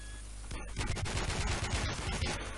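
Automatic gunfire in a shooter game, opening after a brief pause into a dense, loud burst of rapid shots that continues without a break, near and harsh.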